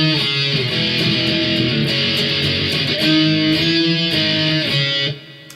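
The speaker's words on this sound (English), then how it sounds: "the first part of the chorus in total then will just sound like this then." Distorted electric guitar plays the opening part of the chorus of a song, with steady, loud chord changes and sustained power chords that stop abruptly near the end.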